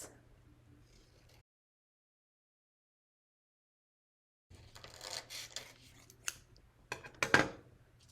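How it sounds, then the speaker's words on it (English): Crisp snipping and rustling of scissors cutting paper, several uneven cuts close by after a stretch of quiet, with one sharper snip near the end. "some scissors to cut on the lines you drew"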